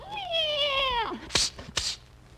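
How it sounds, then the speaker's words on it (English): An old-time radio comedy sound effect of a cat meowing: one long, drawn-out meow, loud and close, followed by two short, sharp noises. "Darn that cat."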